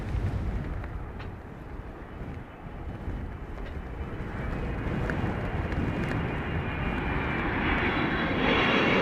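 An Airbus A220 airliner on approach for a windy landing at London Heathrow, its engine roar building steadily from a distant rumble to a louder, fuller drone, with wind buffeting the microphone.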